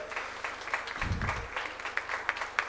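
Scattered applause from a college inauguration audience at a first-year engineering induction programme, fairly quiet with irregular individual claps and a brief low murmur partway through.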